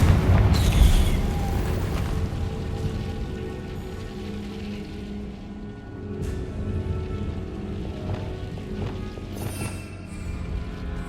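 Spell explosions from Bombarda and Confringo in the video game Hogwarts Legacy, with a loud burst at the start followed by rumbling, crackling game ambience and fainter impacts later.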